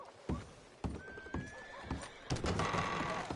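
A horse clops its hooves in a few loud, close beats and neighs twice, the second whinny coming over a busier rush of noise.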